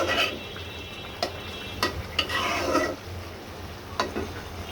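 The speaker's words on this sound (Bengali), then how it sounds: "এই চুলায় হচ্ছে আমার সেই বাঁধাকপি ভাজি।" Cabbage fried with Bombay chili on a stove, giving a steady close sizzle broken by a few sharp spatula knocks and scrapes as it is stirred.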